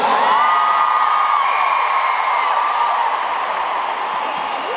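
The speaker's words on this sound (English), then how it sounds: "We have got one noisy crowd in here tonight." A large concert crowd at a Take That show cheers and whoops loudly and continuously, a dense roar of voices with high shouts rising above it, close and sustained throughout.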